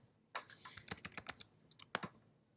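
Typing on a computer keyboard while entering details into an online account form: an irregular run of quiet, close keystroke clicks in short clusters, with brief pauses between.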